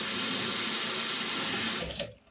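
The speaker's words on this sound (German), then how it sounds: "kann man sich hier so Wasser einfüllen," Cold water runs steadily from a tap into a container for about two seconds, then cuts off abruptly, close and fairly quiet.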